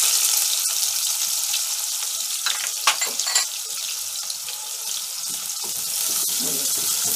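Finely chopped onion fries in oil with cumin and mustard seeds for a sprouted-bean usal, giving a bright continuous sizzle up close, broken by a few clinks of a stirring spoon, with no voices.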